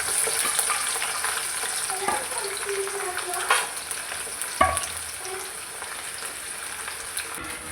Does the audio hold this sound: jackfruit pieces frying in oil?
yes